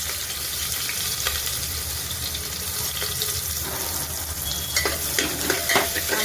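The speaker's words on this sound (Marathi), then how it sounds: "कुकरमध्ये तेल टाकलंय. तेल गरम झालंय, त्याच्यामध्ये टाकते कांदा" Chopped onion fries in hot oil inside a pressure cooker, giving a steady close sizzle with occasional stirring scrapes and a few sharper pops near the end.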